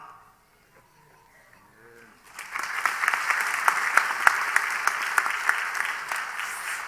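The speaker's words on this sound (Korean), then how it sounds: "다시 한번 뜨거운 박수 한번 보내주시면 감사하겠습니다" Congregation at a church installation service breaks into warm applause after a brief quiet spoken lead-in, the clapping rising quickly into a steady, moderately loud round.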